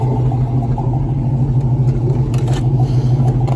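An LS-swapped car engine pulls hard under acceleration, a steady deep rumble held loud and close for the whole stretch, with no talking over it.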